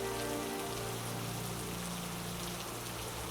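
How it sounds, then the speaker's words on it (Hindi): Heavy rain falls in a cartoon as a dense, steady hiss of drops on surfaces, loud and unbroken, with a low hum beneath. "कुछ देर बाद भी बारिश बंद नहीं होती।"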